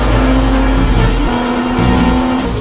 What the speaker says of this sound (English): Ford number 1 and Bandini in Ferrari 21 as they push their cars to the limit past the White House corner